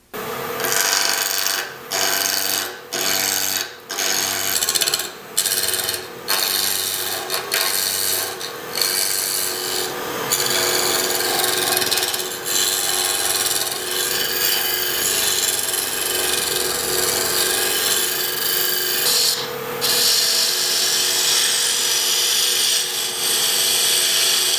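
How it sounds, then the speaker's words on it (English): A spindle roughing gouge levels a turning wood blank on a lathe, an off-center woodturning piece, giving a loud continuous rasping scrape with short rhythmic breaks early on, then steady cutting. "So the first thing I'll do is level this off with a spindle roughing gouge."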